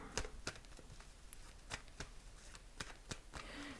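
Tarot cards shuffled by hand in a quiet room, a run of soft crisp riffling slaps at an uneven rhythm, close and fairly faint, with no talk over them.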